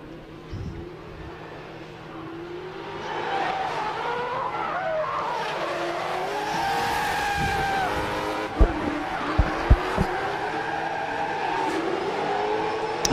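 A Toyota GT86 and a Nissan Skyline R33 drift side by side at a French Drift Championship battle, with loud sustained tyre squeal and revving engines rising and falling, and a few sharp bangs near the end.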